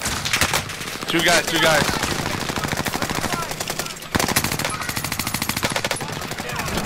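Rapid automatic gunfire in a tactical shooter match, dense bursts of shots firing through a wall at close range, nearly continuous with brief pauses, while players talk over the shooting.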